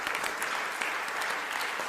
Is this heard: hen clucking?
no